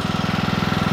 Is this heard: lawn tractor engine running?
yes